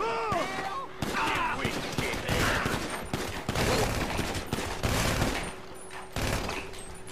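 Gunfire in GTA 5 as enemies shoot at the player: repeated bursts of shots crackle through the scene, fairly close, with someone talking over them.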